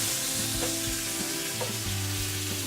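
Pork chops sizzle loudly and steadily in a hot pan as they are flipped, a dense close-up frying hiss with a few faint utensil taps and no talking.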